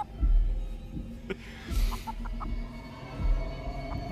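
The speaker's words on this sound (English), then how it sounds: "You think you get used to a 6 foot chicken bum rushing you, but it never gets better." Giant six-foot chicken clucking in the game Chicken Feet, a few low gobbling clucks and thumps over a steady hum, with no talk.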